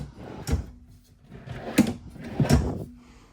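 Desk drawers in a 2026 Cardinal 37GALLEY RV sliding open and shut, three distinct thumping slides with short wooden knocks, close and fairly loud with no voices.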